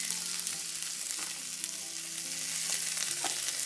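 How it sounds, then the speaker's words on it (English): Light soy sauce hits a shrimp and vegetable stir fry in a hot pan, giving a loud, dense, continuous sizzle with faint stirring scrapes, close up. "And right now I'll go ahead and add in some light soy sauce"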